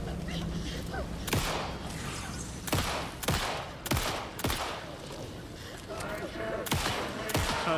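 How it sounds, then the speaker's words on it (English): Gunshots in the video game Alan Wake 2, about eight sharp, separate shots spaced a second or so apart over a quiet tense background, with a voice speaking between them. "Trying to shoot her chest."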